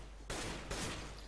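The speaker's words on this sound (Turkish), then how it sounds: "Şimdi yapmayanları vuruyorum." Gunfire in the video game CS:GO: two sharp, loud shots about half a second apart, each followed by a short reverberant tail, with no talk over them.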